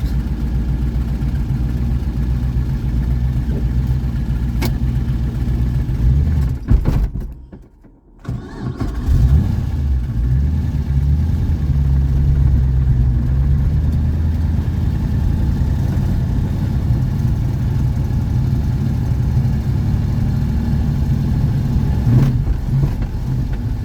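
A 7.0L LSX-swapped Cadillac CTS driving in first gear, its engine a loud, close, deep rumble that holds steady, dips briefly and comes back strong, with no speech.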